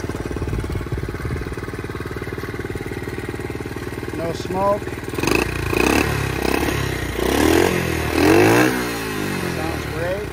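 A Honda CT70 four-speed motorcycle starts up midway and settles into a steady, close idle with a few throttle blips, following a low mechanical rumble and brief talk.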